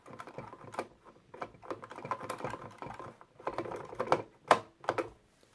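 An NES Advantage joystick with rubber membranes creaks and clacks as it is moved, giving quiet, irregular clicky bursts like typing, with a few sharper knocks near the end and no talk.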